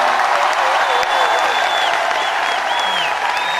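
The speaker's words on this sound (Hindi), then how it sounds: "जोरदार तालियां बजाओ।" Loud, dense applause from a large crowd at a Hindi poetry recital, continuous and close, with a few whistles rising above the clapping.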